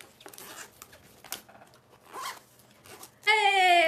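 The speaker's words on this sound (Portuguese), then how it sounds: "Agora a gente fecha o zíper." A zipper on a handmade Chérie backpack is pulled closed in short scratchy bursts, then a louder sustained zip at the end, close to the microphone with a few light handling sounds between.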